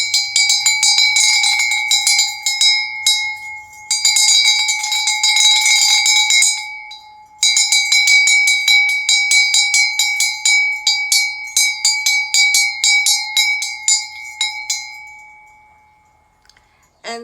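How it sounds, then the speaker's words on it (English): An old, heavy meditation bell adorned with seven gods rings repeatedly, with clear sustained metallic tones and clusters of quick strikes in several rhythmic bursts, slowly fading at the end, close and loud with no talking. "This is the last bell that I use. It has 7 gods."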